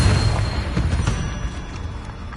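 Confringo blasting spell explosion in Hogwarts Legacy, a loud, close boom whose heavy low rumble rolls on and gradually fades over a couple of seconds.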